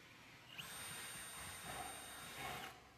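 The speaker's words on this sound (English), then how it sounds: "These are first used to screw the tracks directly to a plywood or other type of surface like this" A power drill drives self-tapping screws into steel drywall track laid on a plywood surface, a steady high-pitched motor whine holding for about two seconds, rising slightly in pitch near the end before cutting off.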